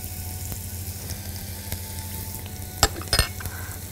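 Onion and carrot fry in butter in a pan, a close, steady sizzle with a few sharp spoon clinks near the end and no voices.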